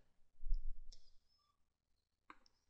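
A few sharp mouse clicks, two or three spaced apart, land over near silence with a soft low rumble early on; close and quiet, with no speech.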